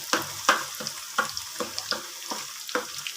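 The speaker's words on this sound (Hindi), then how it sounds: "दूसरी जो मूंगफली थी वो भी हम फ्राई कर लेते हैं" Peanuts frying and being stirred in a pan for homemade masala peanuts, with repeated sharp crackling pops and scraping strokes at a steady rhythm, close and moderately loud, no talking.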